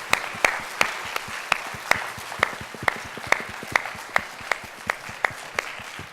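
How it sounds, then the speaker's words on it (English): Steady, evenly spaced claps at a public talk by a social innovator, beating in a regular rhythm over a quiet room and staying moderately loud throughout. "So shall we all give a big round of applause, to Machin."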